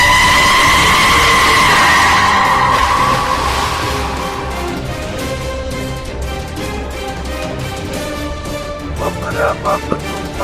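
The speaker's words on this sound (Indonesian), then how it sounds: "bus pun berjalan mundur." A bus rolling backward down a steep uphill road, skidding: a long loud tire squeal and scraping slide with engine rumble that fades into lower grinding noise.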